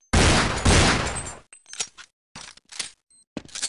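Counter-Strike gunfire: a long loud roaring burst of shots up close, then a few short sharp single shots and brief bursts separated by silent gaps.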